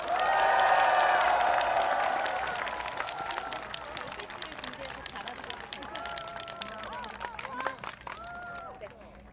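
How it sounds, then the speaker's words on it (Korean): Crowd applause and cheering at a presidential campaign rally in Seoul: loud, dense clapping swells at the start and then fades into a lower crowd murmur while a voice speaks over a PA. "다시 한번 박수 보내주십시오."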